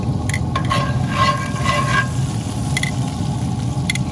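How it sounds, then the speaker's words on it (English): Pork chops and three cloves of garlic fry in a pan, giving a steady close sizzle with a few stirring scrapes and clicks, and no talking. "Okay, the garlic's going."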